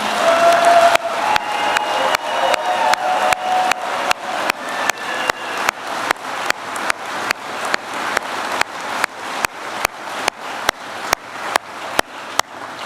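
Crowd at a political rally for the US vice president claps and cheers in a thick, loud burst that slowly thins out and breaks into regular, evenly spaced claps.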